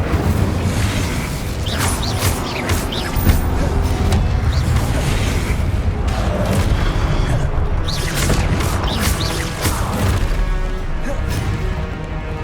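Incendio fire spells cast in Hogwarts Legacy gameplay, a dense run of booming, crackling bursts and mechanical clatter, loud and continuous, with occasional speech in between.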